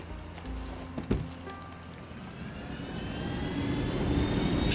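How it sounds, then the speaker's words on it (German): A small helicopter in the video game Ghost Recon Wildlands powers up, its engine whine climbing steadily in pitch over a rumbling drone that grows louder. "Nehmen wir wieder unseren netten kleinen Heli."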